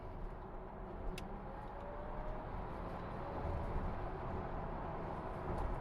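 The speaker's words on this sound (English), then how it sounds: "It's also an opportunity for the final stretch just to experience the acceleration of this car" Volkswagen ID.5 GTX electric car accelerating, heard as a steady low road and cabin rumble that swells slightly over a few seconds, with no motor whine or speech standing out.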